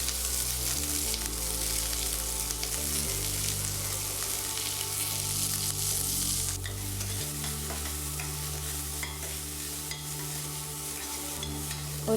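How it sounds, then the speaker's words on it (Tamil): A large chopped onion sautés in a pan with a continuous sizzle and frying hiss, overlaid by repeated stirring scrapes, clear and close throughout. "ஒரே ஒரு பெரிய வெங்காயம் மட்டும் கட் பண்ணி போட்டிருக்கேன். வெங்காயம் நல்லா வதங்கினதும் காய் போட்டுக்கலாம்."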